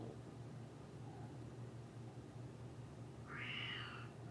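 A house cat meowing indoors, one brief faint mew early and a clearer short meow near the end, over a steady low hum of background noise.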